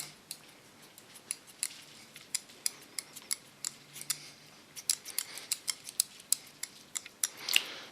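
Scissors cutting hair on an ultra short summer haircut, a steady run of crisp, close snips at a quick, fairly even rhythm, growing denser near the end, with no voices.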